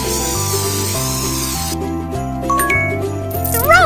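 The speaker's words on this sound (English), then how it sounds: "Now shake it and spray it." A spray bottle hisses in a Christmas hair salon game for kids, short spritzes over a constant looping jingly music track, with chiming effects toward the end.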